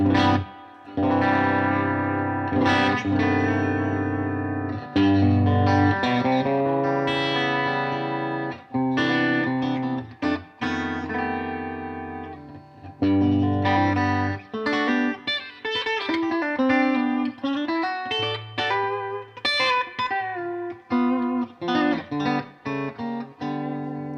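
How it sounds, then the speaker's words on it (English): An electric guitar played through effects, distorted chords and single notes ringing out with a lush reverb tail between phrases. "So this gives you more choice with the reverb to go old school or just have a little bit."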